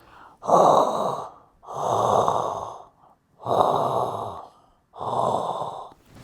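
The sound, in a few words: astronaut breathing sound in the film 2001: A Space Odyssey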